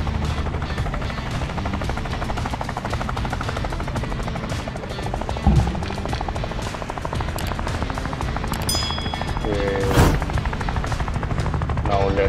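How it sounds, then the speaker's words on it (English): Helicopter in the Off The Road Unleashed video game, used for unloading construction materials at a yacht, hums steadily with rotor buzz throughout, mixed with game sounds and a couple of sharp thuds. "again for unloading we need the helicopter."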